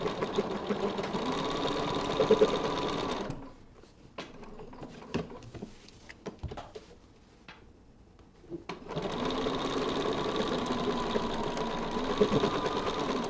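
An embroidery machine stitches a border design with fast, even needle clatter, stopping for a few seconds of near quiet broken by small clicks, then resuming its steady close whir.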